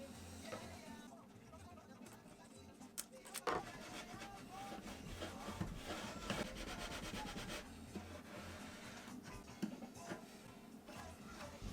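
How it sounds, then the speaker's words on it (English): Edges of edge-banded oak veneered MDF being sanded by hand, a steady rubbing scrape that runs continuously at close range with a few brief knocks, over a faint background hum. "And then I sanded all of the edges"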